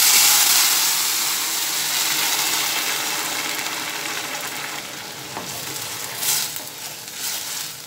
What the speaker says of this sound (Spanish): Después de 3 minutos de estar friendo el arroz, ya doró, y le vamos a agregar el agua.